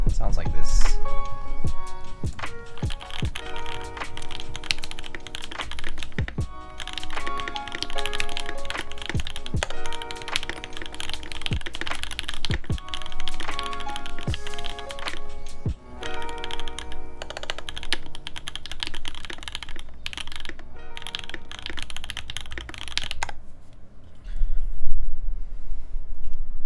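Typing on a newly built Time 80 Reforged mechanical keyboard, with dense, rapid key clacks in irregular bursts and a solid, unhollow tone. The typing continues for most of the clip while a voice talks over it.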